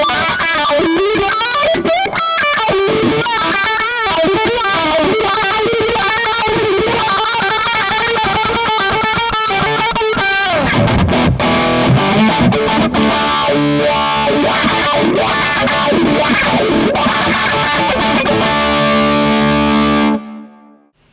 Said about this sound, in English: Now you can hear that in a heel position there's a lot of effect.